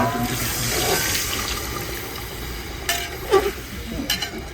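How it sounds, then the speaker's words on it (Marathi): Water is poured into a pan of frying Chilapi fish curry masala and stirred, giving a continuous close sizzle and rush with a few scraping, splashing bursts near the end. "जरा पाणी पण ओतून घेऊन"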